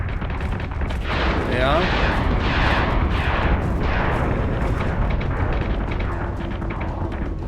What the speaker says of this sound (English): we can fire our missiles at this one